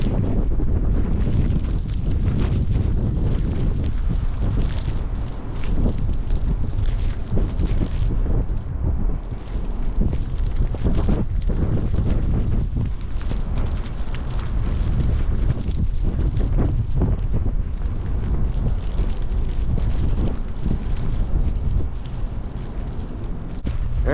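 Strong winter storm wind gusts during Winter Storm Landon roar continuously and loudly, buffeting the microphone with rumbling surges and brief lulls throughout, with no talking.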